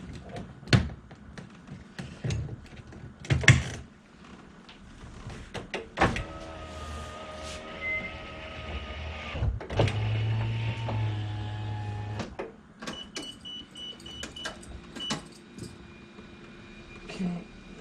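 An electric window motor in a Nissan Figaro door whirs for several seconds in a couple of steady runs, close up, between clicks and handling noises of the door being reassembled.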